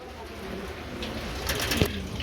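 Pigeons at a Bengali pigeon seller's stall coo softly in a steady low murmur, with a slightly louder burst near the end over faint background noise.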